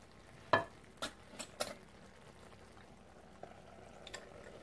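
A spoon or spatula stirs ginataang salmon, a coconut-milk salmon dish, in a cooking pan. A few soft scraping clinks come in short bursts over a faint simmering background.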